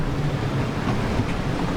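Steady wind of about 20 knots and washing waves surround a sailing catamaran at anchor during storm preparations, a constant loud rush with no pauses.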